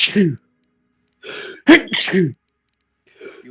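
One sharp sneeze bursts out in the middle of some brief talking, close and loud.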